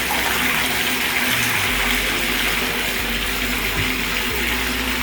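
A bathtub fills with hot running water, a steady loud gushing rush from the tap that continues without pause and with no voices.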